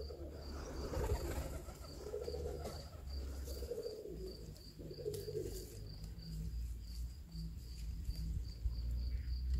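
Pigeons cooing outdoors on a hot summer day, soft low murmuring coos repeating in the background alongside a steady high insect trill, faint and distant throughout.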